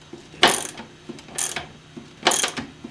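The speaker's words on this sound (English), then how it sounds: "I'm going to use a ratchet because it's a long bolt" Ratchet wrench loosening a long bolt on the front end of a Mercedes 300D, three bursts of quick clicking spaced about a second apart, close and fairly loud with no talk.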